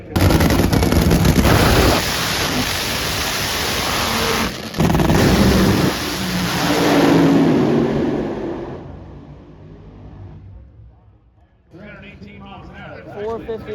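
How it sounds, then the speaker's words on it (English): A blue funny car makes a drag racing run at the Heartland Nationals in Topeka: a thunderous, crackling roar close by that fades after several seconds, then a short quiet stretch before other track noise returns. "Got a familiar blue funny car up here for round number 1."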